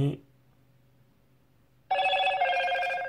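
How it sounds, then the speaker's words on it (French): After a moment of near silence, a bright electronic startup chime rings out abruptly from a Motorola One Macro phone, a short melodic tone held to the end. "le petit bruit de chez Motorola"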